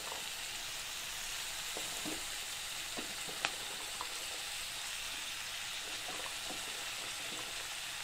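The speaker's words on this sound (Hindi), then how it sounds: "और इसे मैं अच्छे से मिक्स कर लूँगी" Spinach, potatoes and beans being stirred in a pan with tomato and spice masala, a soft steady sizzle with occasional faint scrapes and taps of a spoon.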